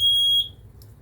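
A single loud, piercing electronic beep from a Kidde 10SDR smoke alarm test, holding steady for under half a second before cutting off, with a faint chirp after.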